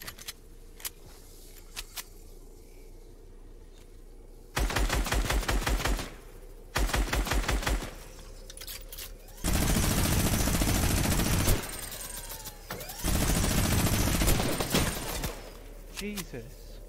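A minigun in the battle game Fortnite fires in several long, loud rattling bursts separated by short pauses, each a dense stream of rapid shots against a quiet background.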